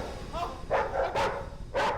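A dog gives several sharp barks and yips in quick succession, fairly close, over a faint noisy background with some indistinct voices.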